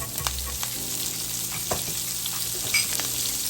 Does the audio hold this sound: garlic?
yes